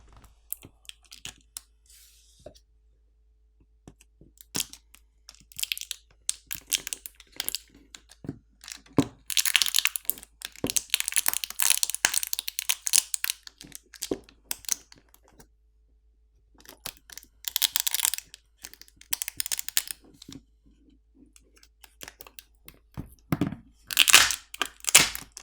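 Plastic cracking and crunching as the battery is pried out of a OnePlus Nord N100 phone with its pull tab, in irregular bursts of close, sharp clicks and strained snapping with brief pauses between efforts.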